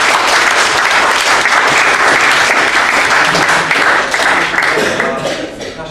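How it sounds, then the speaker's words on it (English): A room full of people applauds the speakers at a company presentation with loud, dense clapping that runs continuously before fading near the end. "can we have a round of applause for these wonderful speakers"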